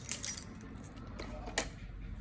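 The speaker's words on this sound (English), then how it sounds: "Let me find my keys." A bunch of keys jingles quietly in a few short rattling bursts, close by in a quiet room where a fire alarm panel is being tested.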